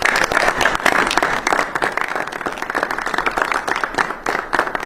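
An audience claps loudly and continuously for several seconds, a dense crowd applause that stays close and full before tapering slightly at the end.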